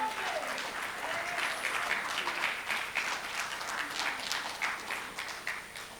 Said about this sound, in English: A second round of applause for South Africa.